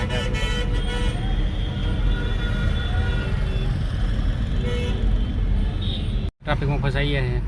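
Stalled traffic on the Rajkot highway near Aslali bridge in Ahmedabad, with a constant low engine drone and car horns honking now and then, while voices chat close by over the noise.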